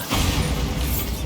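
A Bombarda spell blast aimed at a damaged bridge in Hogwarts Legacy, heard as a loud, sustained rumbling burst that fills the whole short moment.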